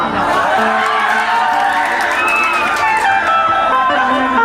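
A crowd at a live stage show in Arwal district shouts and cheers loudly and steadily, dense and close, with whoops and voices layered over a constant roar and faint clapping underneath.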